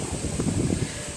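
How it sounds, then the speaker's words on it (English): Gusty wind blowing outdoors with steady broadband rush and low rumbling buffets against the microphone, loud and continuous for a moment with no talk over it. "Wow, it's windy."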